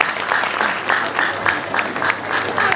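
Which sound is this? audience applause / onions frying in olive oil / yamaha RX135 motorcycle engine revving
audience applause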